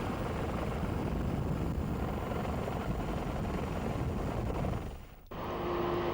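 Sea King helicopters on a flood relief mission in Mozambique in 2000 throb with a steady, loud rotor and engine roar that briefly cuts out near the end before resuming.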